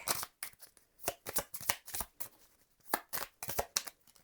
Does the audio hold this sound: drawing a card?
yes